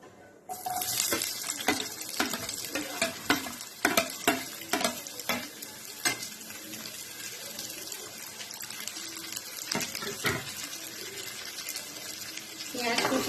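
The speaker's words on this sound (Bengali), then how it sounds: "এবার এই ফোড়নের মধ্যে আমি পেঁয়াজের কুঁচিগুলো দিয়ে দেবো" Chopped onions fry in hot oil with a spice tempering for coconut water chicken, sizzling moderately while a spoon stirs in repeated scraping clatters, with faint voices in the background.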